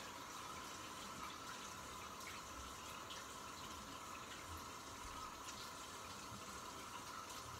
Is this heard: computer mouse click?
no